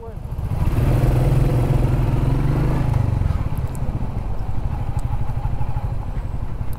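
A Royal Enfield Classic 350 single-cylinder motorcycle engine runs close by with a loud, steady low thump that eases back partway through and keeps going at a lower level.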